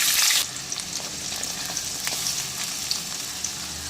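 Chopped onions hit hot gingelly oil with fried fennel seeds in a chicken gravy, a loud initial sizzle easing into a steady, close crackling fry with light stirring, no voices.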